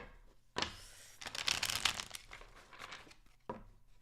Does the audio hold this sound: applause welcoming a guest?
no